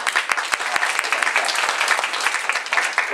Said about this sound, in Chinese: 我们来鼓掌一下